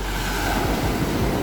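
Sea waves wash below a cliff, a steady close rush of surf mixed with wind noise and no voices.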